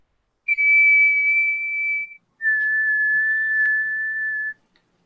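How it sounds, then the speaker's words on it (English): A person whistles two long, steady, high-pitched notes in a row, the second slightly lower than the first, close and clear with silence between them and no talking. "I was creeped out by the whistle."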